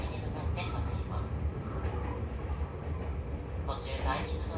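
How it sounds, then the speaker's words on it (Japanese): A Seibu Railway Ikebukuro Line train pulls out of platform 4 at Ikebukuro station with a continuous low rumble and rolling wheel noise. An onboard voice speaks over the sound. "この電車は、現在池袋4番線を出発し、上田彦根筋方面に向かって走ります。"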